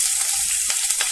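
Sliced onion hits hot oil with popped mustard seeds for a Kerala-style potato curry, giving a steady crackling sizzle with small pops throughout, close and alone with no talk.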